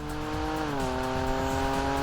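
Jaguar F-Pace V6 petrol engine, shared with the F-Type, in sport mode: a steady, loud harmonic engine note that climbs slightly, heard close and continuous with no talk.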